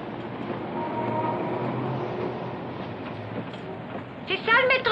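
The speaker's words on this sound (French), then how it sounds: "C'est ça le métro?" A Montreal metro subway train rumbles past at moderate volume with a steady roar, then a voice speaks over it at the end.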